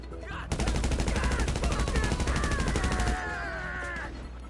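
Sniper and automatic gunfire in GTA Online, a dense volley of sharp shots crackling rapidly for about three seconds over steady game background noise, with no talk.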